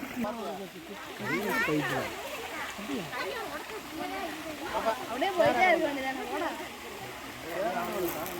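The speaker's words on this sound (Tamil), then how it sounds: "அருவி தண்ணி." Water from the Kallaru waterfall rushes and splashes as a constant background hiss, with a person talking throughout over it.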